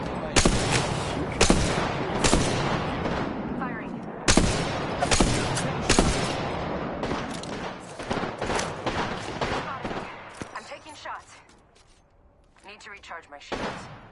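Rapid automatic gunfire in the Apex Legends battle royale game, season 8, with dense bursts and loud single shots cracking through most of the stretch, dropping to a quieter lull near the end before shots resume.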